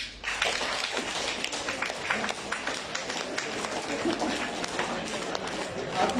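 An audience in a hall imitates galloping horses by rapidly pattering and slapping their hands, a loud, dense rhythmic drumming that runs continuously, with a voice speaking faintly over it.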